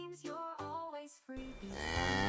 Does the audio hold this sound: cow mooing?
yes